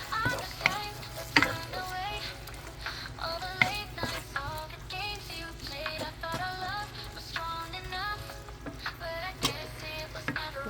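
Salt and sugar being stirred together in a home kitchen, a string of light scraping and clinking strokes at an irregular rhythm over a faint steady background hum.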